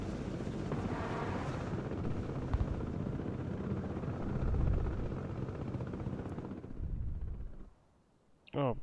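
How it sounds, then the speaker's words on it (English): Helicopter in the Broken Arrow video game, a dense rotor and engine roar holding steady and loud for most of the stretch, then cutting out abruptly before a short burst of other sound at the end. "They had the helo drop there."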